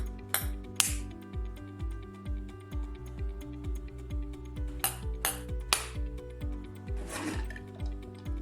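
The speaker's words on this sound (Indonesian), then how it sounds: "ketuk telur pelan-pelan dengan sendok besar untuk membuat retakan halus kecil-kecil" A large spoon taps lightly and repeatedly on an egg to make fine cracks, in a quick, irregular rhythm, close and quiet, with a few sharper clicks mixed in.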